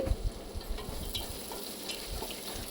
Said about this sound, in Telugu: ఇంకా వేగిన తర్వాత ఉల్లిపాయలు వేస్తున్నాను